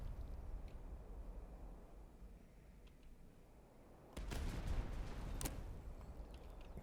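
Cannon fire during a battle in the Master of Command video game. A quiet battlefield bed gives way to a louder, sustained burst of booms and cracks partway through, with a couple of sharp reports standing out.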